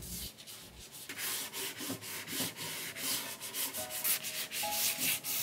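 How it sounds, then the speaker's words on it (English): Sandpaper rubs back and forth over white-painted wood in a rustic farmhouse wall decor piece, a run of close, dry scratchy strokes with short pauses between them. "Then I sanded it down to smooth it out and blend both of the colors."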